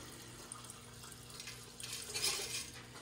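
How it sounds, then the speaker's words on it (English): Rinse water sloshing and swirling around pure silver crystals inside a container, a steady wet churning close by that builds toward the end, with no talking. "Just swirling that rinse water around in there to get all that blue liquid off, all the electrolyte off of the silver crystals."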